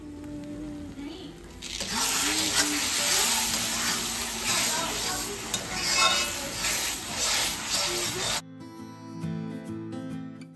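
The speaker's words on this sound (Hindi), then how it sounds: "तो मटर अच्छी तरह भून लिए थे मैंने, अच्छी तरह वो भुन चुके हैं" Peas roasting and being stirred in a hot pan, a steady loud sizzle with scraping stir sounds up close, then cutting to quieter background with faint talk.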